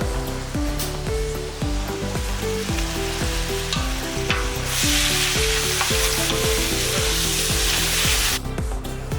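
Ingredients for Italian wedding soup sizzle steadily in a hot pot, a dense frying crackle with rhythmic stirring thumps and scrapes throughout, close and loud, no talking.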